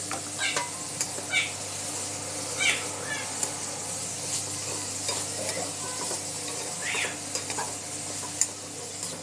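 Capsicum and cabbage being stir-fried in a pan, a quiet, steady sizzle broken by soft scraping stirs, with a faint high cry now and then in the background.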